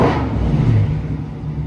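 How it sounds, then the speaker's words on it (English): A 2021 widebody Dodge Charger with a mid muffler delete gives a short, loud blip of revs up close, swelling quickly then settling back to a deep idle rumble. "Let me give her a quick little gas here."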